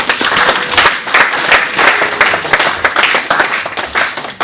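A church congregation at a French-language Sunday worship service breaks into loud, sustained applause, dense steady clapping from many hands filling the room throughout with no break.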